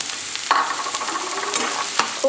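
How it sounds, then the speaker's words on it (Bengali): Onion and lightly fried potato sizzle in a pan, a steady frying hiss broken by a few stirring scrapes and clinks, close and fairly loud, with no talking. "পেঁয়াজটাও ভাজা হতে হবে প্লাস আলুটাও তার সাথে ভাজা হয়ে যাবে"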